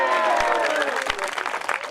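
An audience applauds at a Hindi comedic poetry recital. Dense clapping fills the room while a voice talks over it, with some sustained tonal sound underneath.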